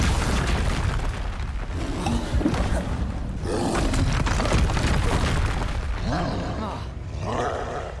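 Explosive Confringo spell blasts in Hogwarts Legacy gameplay, a dense run of booming, roaring bursts that fill the whole span, loud and close, with other spell effects mixed in.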